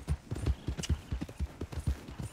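Horse hooves clip-clop in a steady walking rhythm in the video game Red Dead Redemption 2, close and moderately quiet, with a brief higher sound near the start.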